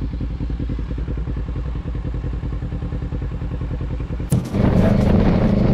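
A Kawasaki Versys 650 motorcycle engine idles with a steady rapid putter, then a clattering thump as it revs up louder and rougher.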